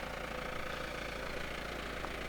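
The 2.5 liter turbo diesel engine of a 1996 Ford Freda pop-top camper runs at a steady idle, a continuous low rumble and clatter at close range with no talking.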